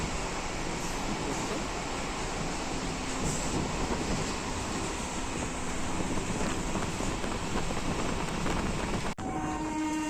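Burdwan–Howrah local train 36828 standing at a station platform, a steady low rumble and hum with platform noise, fairly loud and constant, with a faint voice in the background.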